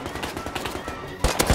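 Gunfire in the survival game Rust during a raid defense, rapid automatic bursts with heavier shots toward the end, close and loud.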